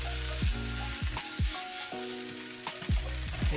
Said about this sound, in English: We can go ahead and add our spinach now.